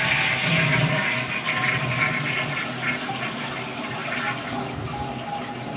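A toilet flushes loudly and close by, a continuous rushing gush of water that drains steadily over several seconds with no voices.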